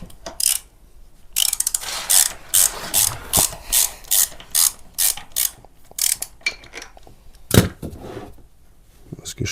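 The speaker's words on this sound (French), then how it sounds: "On dévisse là, l'huile va couler." A ratchet wrench works loose a motorcycle oil drain plug during an oil change, producing rapid clicking bursts repeated in a steady rhythm, close and fairly clear over a quiet background.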